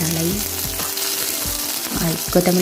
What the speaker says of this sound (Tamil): ஸோ அது மூணுமே நல்லா வதக்கணும்.